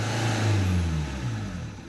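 Opel Vectra C with the Z19DTH diesel engine running roughly after being rebuilt, a steady low engine drone with slight revving, close and alone with no talk.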